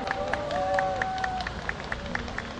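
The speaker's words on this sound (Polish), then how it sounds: "Możecie klaskać, jak najwięcej." An audience at the official opening of the 51st Polish Army mountain rally claps in scattered, irregular bursts, moderately loud, alongside a murmur of voices and a sustained tone.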